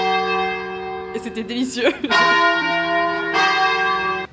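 Church bells ring at Lake Como in Italy in the rain, a loud, sustained peal with layered tones that keeps going throughout. Someone talks over the bells partway through.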